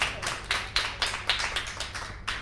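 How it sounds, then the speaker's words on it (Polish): Audience applause at a Big Book Cafe talk evening, a fairly quiet patter of hands with uneven bursts of clapping rising and fading across the clip. "Te oklaski są dowodem na to, że są wśród nas żywi uczestnicy."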